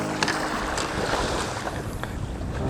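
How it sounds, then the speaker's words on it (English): Strong wind roars steadily across a lake during summertime crappie fishing in Oklahoma, a dense, continuous buffeting rush of wind noise with no talk. "Golly, this wind is crazy."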